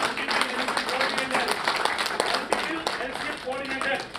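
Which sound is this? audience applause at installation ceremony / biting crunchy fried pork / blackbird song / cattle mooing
audience applause at installation ceremony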